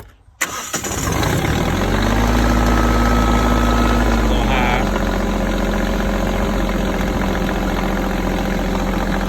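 A Mahindra eMax compact tractor engine with muffler issues cranks and catches within the first second, then settles into a loud, steady running drone close by.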